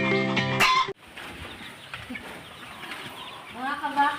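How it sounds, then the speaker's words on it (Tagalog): Backyard chickens cluck and call near a pumpkin-hatch brood, a loud burst at first, then softer clucks over outdoor background noise, with people talking. "Manok namin."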